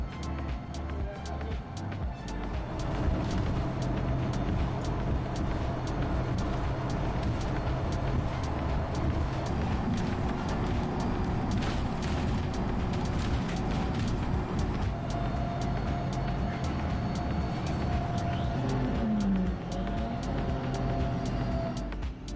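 An autonomous bus on the AB1 route near the M90 and A904 carries a steady, loud interior drone of engine and road noise, with faint voices in the background.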